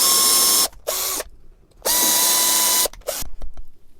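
A drill bit hollows out a carrot to make a flute in several loud bursts, some short and one longer, separated by brief pauses and ending in quick stop-start spurts.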